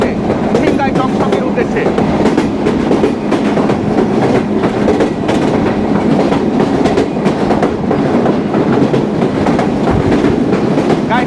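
A freight train rolls steadily past close by near the Jessore–Khulna highway in Bangladesh, a continuous loud rumble with rhythmic clattering of wheels over rail joints throughout.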